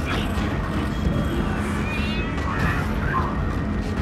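A cat meowing in the horror video game Five Nights at Freddy's: Into the Pit, plaintive calls over a dense, noisy game soundscape with faint voice-like sounds.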